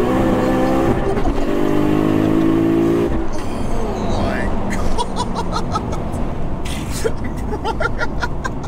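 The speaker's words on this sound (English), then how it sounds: "And just ripping through the gears." A 1100 bhp 2JZ turbo Lexus engine revs hard and shifts repeatedly as it accelerates, with a rising roar and sharp pops between gears, while people talk and laugh over it.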